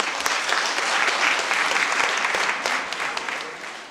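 Audience applause fills a morning conference hall, a dense steady clapping from many hands that holds loud throughout and tapers slightly at the end.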